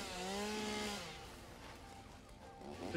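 In the game Satisfactory, a chainsaw whines at high revs as it cuts through wood, then drops to a rougher, lower drone as the cut goes on.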